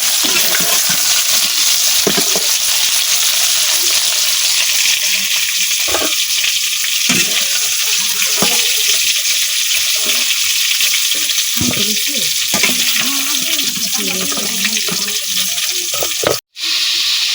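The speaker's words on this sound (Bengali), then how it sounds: "মাংসগুলো কিন্তু খুব সুন্দরভাবে ভাজা হয়ে গেছে," Meat sizzles and spits steadily in a hot pan in a village kitchen, with scraping stir strokes and clatters breaking through the constant frying hiss.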